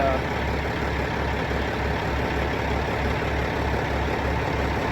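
A tractor engine idles steadily, a loud, even diesel rumble with a regular low throb that holds unchanged throughout, with no talk over it.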